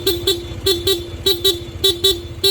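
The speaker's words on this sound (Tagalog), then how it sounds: "Pag nakapatay yan, stock horn yung tutunog kay sir." A Honda PCX160 scooter's stock horn beeps in quick pairs, repeated four times in a steady rhythm, loud and close.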